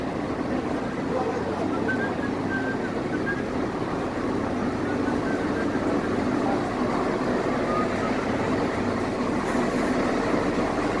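A train running at speed, a continuous loud rolling rumble of wheels and carriages heard from inside, steady throughout with no clear talking.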